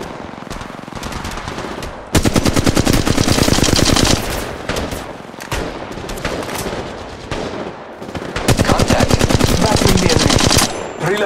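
Automatic weapons fire rapidly in Apex Legends Mobile, with dense, loud bursts of repeated gunshots. Each burst lasts a few seconds and is broken by short pauses, and game sounds and faint voice lines sit in the background.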